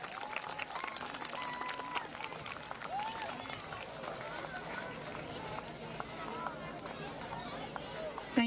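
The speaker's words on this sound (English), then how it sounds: "Parents, please give them a big clap for all the efforts that they have taken to train your small kids." Audience applause for the choreographers at a school event, a continuous crowd clapping with a busy texture throughout, along with scattered voices and some chatter.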